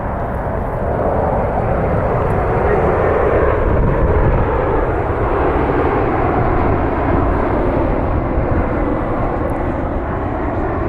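An airliner arriving at Cleveland Hopkins airport, inbound from Boston, roars loud and close as a steady broadband engine rumble that holds for the full stretch.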